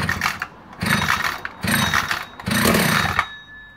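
A vintage Husqvarna B65 chainsaw being pull-started: three loud, close, rasping recoil-cord pulls in quick succession, each about a second long, followed by a short mechanical tail.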